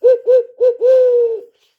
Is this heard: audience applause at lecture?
no